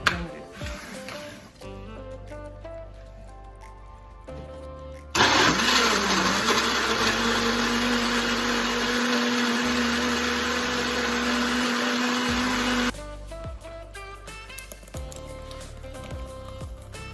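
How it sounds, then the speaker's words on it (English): A kitchen blender purees tomatoes, red bell pepper and onions, the loud steady whir starting abruptly, running for about seven seconds, then cutting out, with quieter kitchen noise before and after. "I'm just going to add it to the tomatoes, pepper and onions and blend it."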